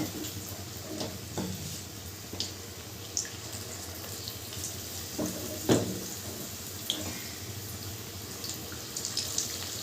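Battered chicken pakora pieces sizzling in hot oil, a steady faint frying hiss with occasional soft pops and splashes as pieces drop in, no talk.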